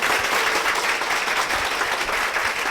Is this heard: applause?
yes